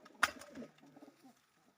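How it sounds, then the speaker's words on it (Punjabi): A pigeon gives a short, soft coo close by, with a sharp flutter or click at the start and quiet low murmuring after. "ਬਰੀਡਰ ਵੱਡਾ ਬਾਈ ਰਾਜਨ ਕਲੇ ਕਬੂਤਰਾਂ ਚੋਂ ਆ"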